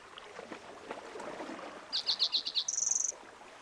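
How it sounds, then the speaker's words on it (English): A bird in Minecraft, Tekkit modpack, gives a run of six quick chirps followed by a brief high trill, clear and alone over soft ambient wind and water. "And there's a bird."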